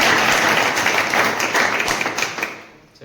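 Students seated in an offline competitive-exam class burst into applause, a dense, loud round of many hands clapping that fades out over about three seconds.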